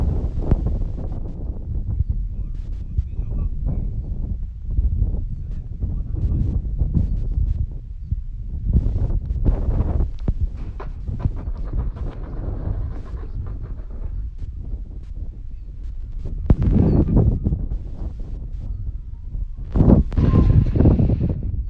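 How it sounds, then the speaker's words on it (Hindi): Outdoor wind gusting steadily across the microphone during a fitness session, a continuous low buffeting roar with stronger bursts toward the end, no voices present. "काफ़ी अच्छी हवा चली है"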